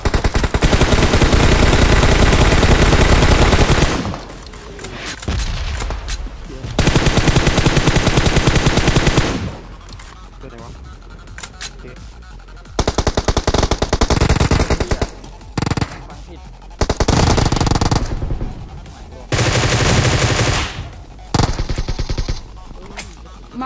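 Gunfire in PUBG Mobile on the Erangel map, including an M416, comes as long sustained automatic bursts and shorter volleys separated by gaps, loud and close, with players talking between them.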